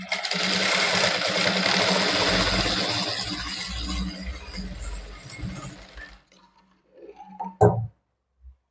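A sewing machine runs a continuous double stitch for about six seconds, a close, steady mechanical whir with a rhythmic needle chatter, then stops, followed by a few small clicks and a sharp tap.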